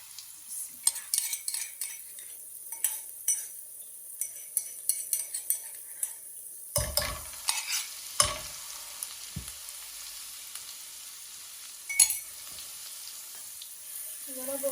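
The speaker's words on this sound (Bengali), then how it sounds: "ছোটো ছোটো ফুটির শুটকি আগুন দিলাইলাম তেল দিলাইছি" Dried fish (shutki) fries in oil in a pan with a steady close sizzle, broken by scraping stirs and a few louder clanks of a utensil against the pan.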